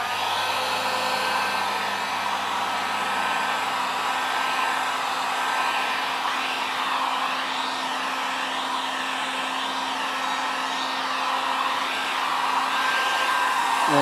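A loud, steady whoosh of hot air from a heat gun plays on a 4-inch drain pipe to soften it for flattening, the blowing constant and close throughout with no talking.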